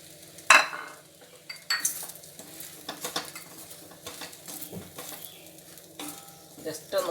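Bread pieces frying and being stirred in oil in an iron wok (cheenachatti) for bread chilli, giving a steady close sizzle with scraping and light metal clinks throughout.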